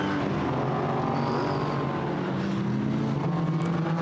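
GT4 race cars coming around the Nürburgring track, a steady loud engine roar with shifting tones as several cars pass close by, no talk over it.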